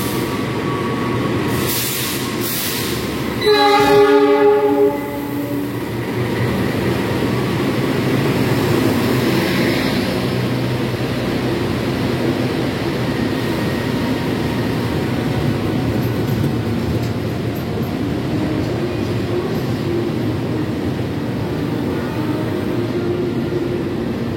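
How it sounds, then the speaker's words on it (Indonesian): The Argo Dwipangga express train rumbles steadily into platform 2 at Purwokerto station, Indonesia, its horn sounding briefly near the start before the low rolling noise continues to the end. "kita lihat kereta api Argo Dwi Pangga masuk di jalur 2 stasiun Purwokerto"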